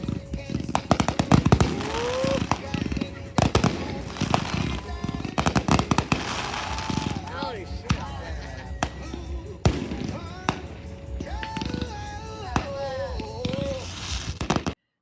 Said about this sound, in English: And then watch the fireworks to end the day.